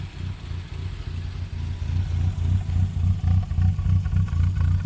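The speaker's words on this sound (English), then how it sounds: "Does have a pretty decent little exhaust note." Exhaust note of a 1976 Triumph Spitfire 1500, a steady low burbling drone that swells slightly as the engine is revved, close and continuous throughout with no talk.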